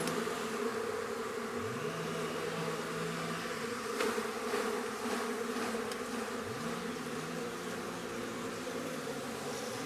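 Honeybees buzz steadily at an open hive during brood-frame transfer to a weak colony, a dense continuous drone of many insects close by with no voices.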